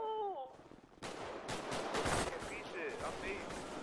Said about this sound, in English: Y'all shooting me?